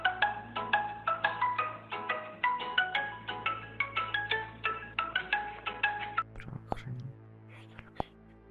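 A notification chime on a Pico Neo 3 VR headset, bright melodic tones repeating in a quick rhythmic pattern for about six seconds, then a few faint clicks, with no talking.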